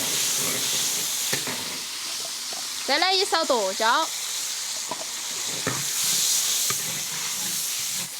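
Spring onion, ginger and garlic sizzle in hot oil in a wok as sour-soup fish seasoning is stirred in, a steady hiss with a brief spatula scrape, while someone talks over the cooking.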